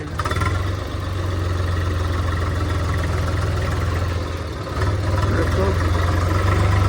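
Tractor engine idling steadily during a rice harvest, a low continuous rumble that dips briefly midway before resuming, with someone talking over it.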